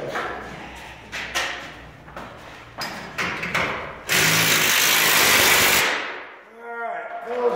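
A power drill drives screws into the bearing plate of a garage door during installation, giving a series of short buzzing bursts followed by a longer steady whir, then a brief pause and faint whine.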